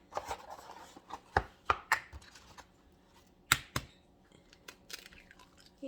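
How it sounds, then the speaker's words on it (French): Three eggs are cut open for a lemon verrine, producing a handful of sharp, close taps and cracks at irregular intervals, with quiet gaps between them and no talking. "on va couper les œufs"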